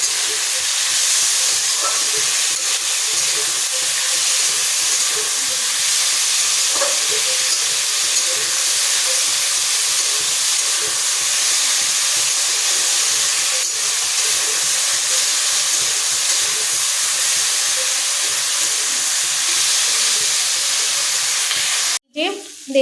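Potatoes and onions frying in a pan for a methi greens dish, a steady close sizzle and hiss with light stirring scrapes throughout, ending in a brief clatter.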